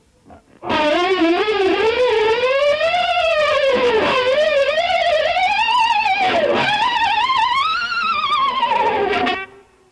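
A distorted electric guitar harmonic wavers and dives as the whammy bar bends it down and up, wobbling continuously for several seconds.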